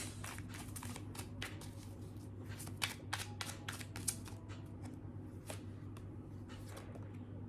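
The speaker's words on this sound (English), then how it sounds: "I'll just draw a few cards for this." Tarot cards are drawn and handled during a reading, a quiet series of soft papery flicks and slides with a few sharper taps, close but faint over a low steady hum, no voices.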